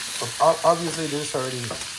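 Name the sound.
sausages frying in a pan for Mexican-style hot dogs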